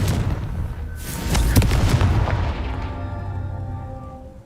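A Confringo fire spell from Hogwarts Legacy bursts in a loud, booming explosion with a sharp crack, rumbling on and slowly fading over several seconds.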